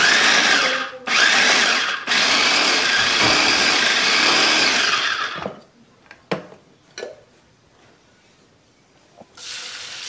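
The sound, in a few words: electric food chopper grinding ingredients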